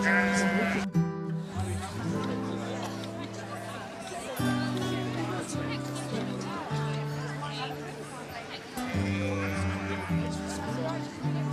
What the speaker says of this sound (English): here's some sheep lining up to go out as well